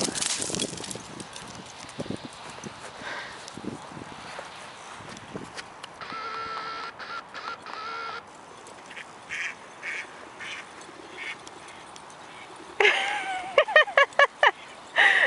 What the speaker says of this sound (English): You see the birds out there?